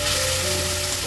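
Spice masala with Kashmiri chili powder and a splash of water sautés in a pan, giving a dense, loud, even sizzle that holds steady without a break.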